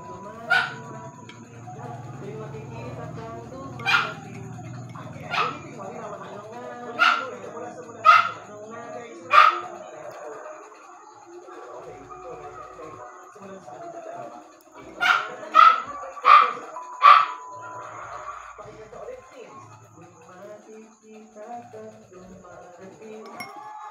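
A pet dog barks in two short bursts of sharp, loud yaps, a run of about five, a pause, then four more, over a quiet indoor background.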